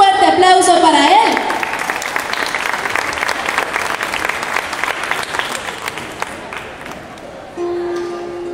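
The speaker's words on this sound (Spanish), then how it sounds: "Un fuerte aplauso para él." Audience at a Sambil Valencia singing performance claps loudly in a dense, steady round of applause that begins under a speaking voice, carries alone for several seconds, then tapers as music enters.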